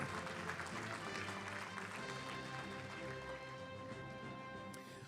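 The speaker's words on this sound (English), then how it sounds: "How about a big round of applause to all of our honorees for Professional Staff Employee of the Year." An awards-ceremony audience applauds honorees for Professional Staff Employee of the Year, a steady, fairly faint wash of clapping held throughout with murmuring crowd underneath.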